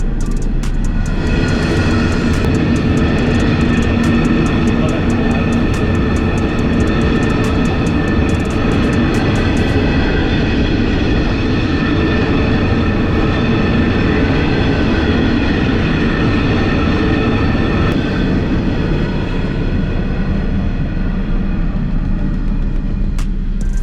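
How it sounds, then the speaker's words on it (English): A very long train rolls past outdoors on a continuous loud pass, with a dense droning rumble, sustained horn-like tonal hum and rhythmic clatter of wagons that keeps going without a break, no talk. "Well, that was the longest one I've ever seen."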